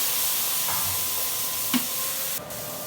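Spice paste of turmeric, green chilli and cumin sizzles softly in a pan just after water is added, a steady hiss with a few faint clinks of a utensil.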